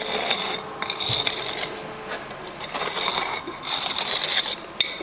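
A brick jointer rakes along fresh mortar joints between laid bricks, giving repeated close scraping and rasping strokes in a push-out, pull-back rhythm with small gritty clinks.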